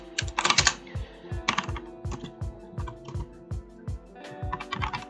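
Code typed on a computer keyboard in distinct bursts of crisp keystrokes with short pauses between them, close and clear over a faint steady hum, no speech.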